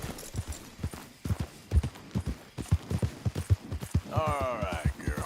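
Horse hooves in Red Dead Redemption 2 clip-clop in a steady, close rhythm of hollow knocks, with a brief whinny-like sound near the end and voices present.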